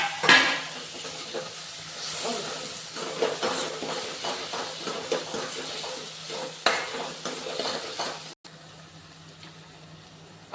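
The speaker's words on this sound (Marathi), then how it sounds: "टोमॅटो चांगला परतून घेऊया।" Tomatoes sautéing with onion, ginger and garlic paste for homemade pav bhaji, a steady close sizzle with repeated stirring scrapes and spatula knocks against the pan, the frying dropping to a quieter hiss near the end.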